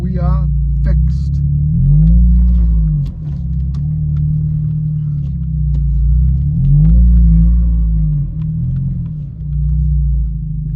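A Seat Leon FR DSG Mk2 hatchback idles and creeps in reverse into a driveway, a loud low engine rumble that swells and dips with throttle, with people talking over it.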